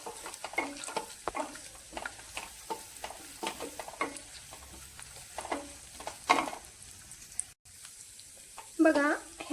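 Cashews, almonds and cardamom fry in a pan with a steady sizzle and frequent scraping stirs, fairly close and moderately loud, with a brief voice near the end.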